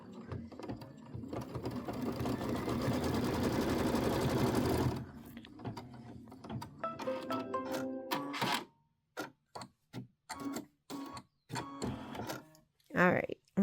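A sewing machine runs a quarter-inch seam on a pieced quilt block, a loud continuous whir for several seconds, then short bursts of stitching between pauses, with a person talking.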